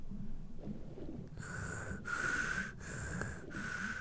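Rhythmic diver breathing in Tomb Raider 2, heard as four hissing breath bursts through a regulator, each about half a second long, with a low rumble underneath and no talking.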